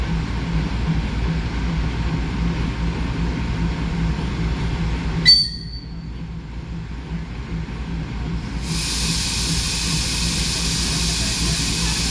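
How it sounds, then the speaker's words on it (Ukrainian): The children's railway train Viterets approaches Parkova station on the Lviv children's railway, a steady low rumble of rolling stock with a brief sharp squeal midway, then the running noise continues, with no talk. "зараз буде поїзд їхати"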